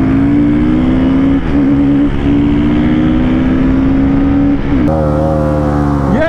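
Two motorcycles, a Royal Enfield Guerrilla 450 and a Bajaj Pulsar NS400z, drag racing with loud, sustained engine roar that climbs steadily in pitch, briefly dipping on a gear change, then dropping near the end before rising again.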